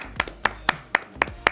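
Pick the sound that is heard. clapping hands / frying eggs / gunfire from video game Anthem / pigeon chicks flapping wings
clapping hands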